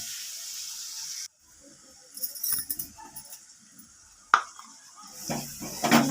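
Onions sautéing with garam masala in a pan give a steady, close hiss that begins after a brief quiet pause. Scattered metallic clatters of a utensil against the pan run through it, with a sharp knock near the end.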